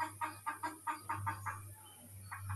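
Chickens cluck in a quick run of short, rhythmic calls close by, with a pause and then a couple more, over a steady low electrical hum.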